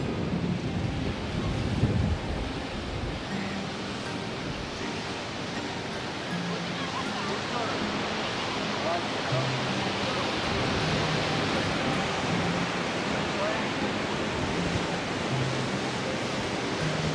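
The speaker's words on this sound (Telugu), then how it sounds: "ఇది అంతర్వేది బీచ్." Surf washes onto Antarvedi beach in a steady, broad roar that holds loud and even throughout, blended with wind rush against the microphone.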